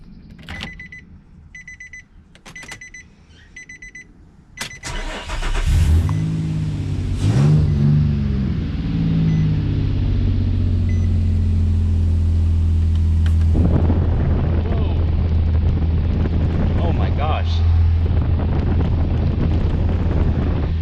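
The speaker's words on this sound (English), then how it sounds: "There's some air blowing now, man." Nissan Frontier cabin fan blowing air through a newly installed cabin air filter, a steady loud broadband whoosh with a low hum that starts after a few clicks and holds strong for the rest of the stretch.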